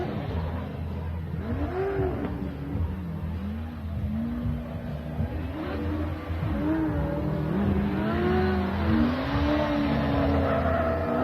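A Toyota Supra drift car at a Formula Drift competition in Orlando. Its engine revs continuously, the pitch swooping up and down with throttle changes over a steady background roar.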